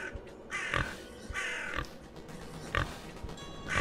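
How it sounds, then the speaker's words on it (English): Crow cawing in a horror video game, with several harsh, rasping calls in bursts spread across a few seconds over a steady low background hum. "Oh no, I hear a crow."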